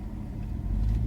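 Truck driving, a steady low rumbling engine drone heard from inside the cab, swelling slightly louder toward the end.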